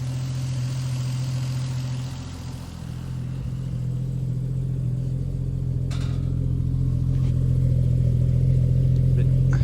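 A 1000hp Barra engine idles steadily, a deep, close, continuous drone that stays rough and even and swells slightly toward the end.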